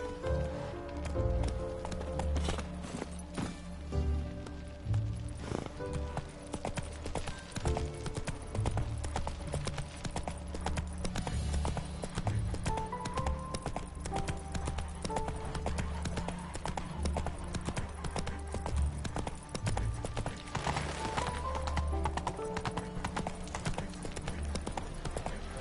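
In The Witcher 3 the horse Roach gallops with a steady rhythmic clip-clop of hoofbeats throughout, set against in-game music and ambient tones.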